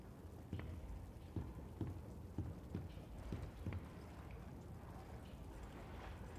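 Footsteps in the horror video game Bendy and the Ink Machine, a string of soft, evenly spaced thuds walking at a steady pace over a low ambient hum, fairly quiet and with no talk.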